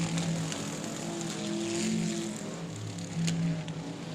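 Pure stock race cars circle a Texas speedway dirt track during a heat race, engines droning steadily with passing roars rising and falling at middle distance, with no talk.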